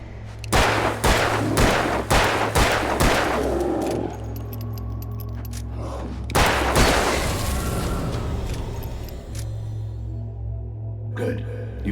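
Handgun fire from the Alan Wake action game on nightmare difficulty: about six sharp, loud shots in quick succession, followed by a louder burst and reverberant game sounds over a steady low drone.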